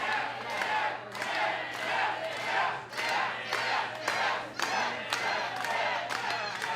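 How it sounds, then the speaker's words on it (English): A crowd at a professional wrestling event cheers and roars continuously, surging in repeated waves of loud shouting and chanting, with an occasional thud from the ring beneath the noise. "The fans here, the powder keg, cheering on Brannigan."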